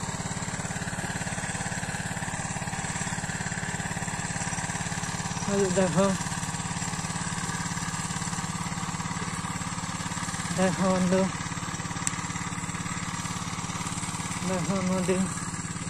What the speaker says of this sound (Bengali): দেখো নৌকা, ওই মেশিন চলছে